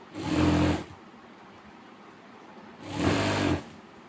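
Sewing machine stitching fabric, two separate whirring runs of under a second each, separated by a quiet pause, close and clear with no talk.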